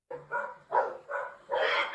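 A dog outdoors in snow gives four short whining yelps in an uneven rhythm, close and moderately loud, with no talk over them.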